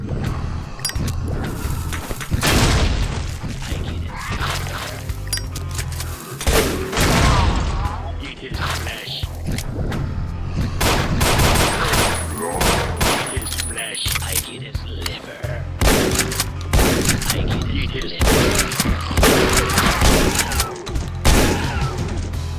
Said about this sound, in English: something we have is a lot of pipe bombs